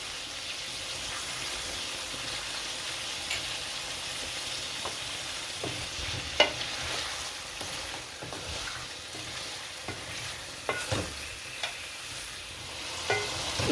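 Mutton and bell pepper karahi sizzling steadily in the pan while being stirred, with a continuous close frying hiss broken by scattered utensil scrapes and light clinks.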